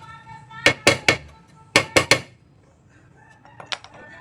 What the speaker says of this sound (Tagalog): Try natin alugin muna ng martilyo yung pinaka nut nya